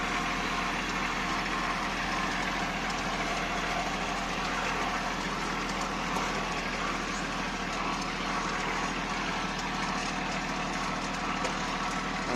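A Kubota Aste A15 tracked carrier engine runs steadily at close range, a continuous loud rumbling drone without pauses, with no talking over it.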